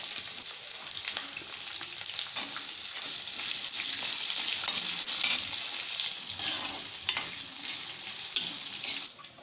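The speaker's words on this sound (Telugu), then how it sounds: "ఇప్పుడు మనం కట్ చేసి పెట్టుకున్న ఉల్లిపాయలు ఇంకా పచ్చిమిర్చి వేసేసుకుందాం." Onions and green chillies fry in hot oil in a pan with curry leaves and garlic, giving a steady, close sizzle with occasional crackles and stirring scrapes throughout, no voices.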